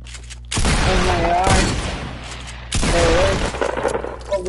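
Bursts of gunfire from a PS4 online shooter game come in two loud volleys of rapid shots, each lasting about a second or more, with a player's voice talking in between.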